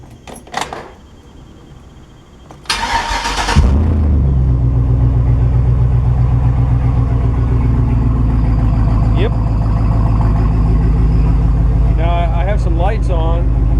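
1968 GMC truck converted to a 2500HD chassis, with a few clunks and a brief cranking whir before the engine catches and settles into a loud, steady idle close by, a person speaking over it.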